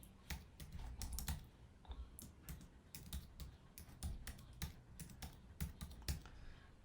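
Quiet, close keystrokes on a computer keyboard as a file name is typed, a run of irregular clicks with short pauses between bursts, with no talking.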